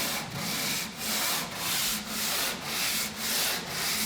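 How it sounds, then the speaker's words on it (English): Rhythmic strokes of 80-grit sandpaper on a flat board rasp along a wooden boat hull with the grain, about seven even back-and-forth passes, close and steady with no talking. "Now we're sanding with the grain"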